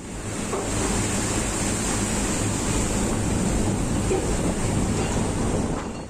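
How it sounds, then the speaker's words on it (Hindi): Stormy sea waves around a tugboat during Cyclone Yaas in the Bay of Bengal, a loud, unbroken roar of surf and wind wash that stays steady and close throughout. "समंदर की लहरों के आगे बड़ा सा टगबोट कागज की नाव की तरह लग रहा है"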